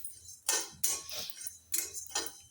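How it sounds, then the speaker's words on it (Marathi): Coriander and cumin seeds dry roasting in a pan, heard as several sharp clinks and scrapes of a spoon against metal in irregular bursts, close and fairly quiet, with no talking. "जिरे आणि धने दोघं मिक्स भाजून घेऊ बरं का आपण"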